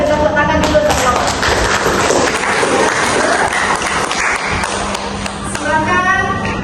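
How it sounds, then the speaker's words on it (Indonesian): A classroom claps for group 3 after its discussion presentation, a dense, lively patter of many hands that runs through the whole moment with voices mixed in. "beri tepuk tangan dulu untuk kelompok"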